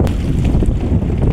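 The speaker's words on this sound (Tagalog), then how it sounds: "Yun, medyo may hangin" Steady wind gusts buffet the microphone outdoors during a fishing outing, a continuous low rumbling roar that fills the whole short stretch with no voices.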